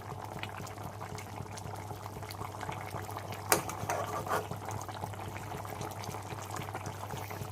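A pot of curry bubbles at a low simmer, soft irregular blips and gurgles over a steady low hum, faint and close with one brief louder splash.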